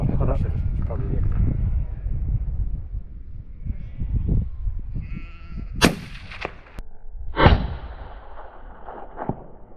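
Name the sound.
rifle gunshot while hunting fallow deer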